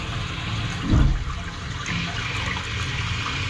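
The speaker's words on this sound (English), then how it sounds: "It's flushing okay" A toilet flushing after repair work: a close, loud whoosh of rushing water with a sharp surge near the start, then a steady hissing refill that carries on to the end.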